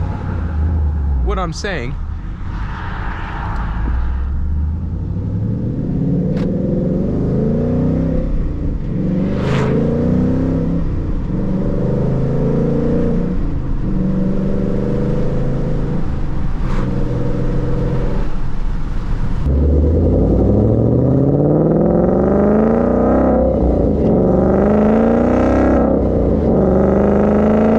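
A Ford Mustang S197 with an MT82 manual gearbox pulls out of a hilly driveway and accelerates, its engine revving and climbing in repeated rising sweeps through the gear changes, heard from inside the car under occasional talk.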